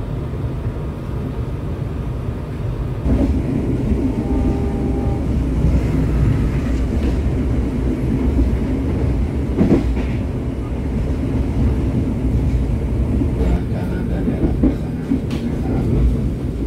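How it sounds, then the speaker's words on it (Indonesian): The Kaligung passenger train pulls out of Pemalang station in Indonesia, a loud, steady rumble of rolling stock with rhythmic wheel clatter and occasional metallic squeals, heard from close by. "kereta api Kaligung tiba di stasiun Pemalang dan dijadwalkan untuk diberangkatkan kembali tepat pukul"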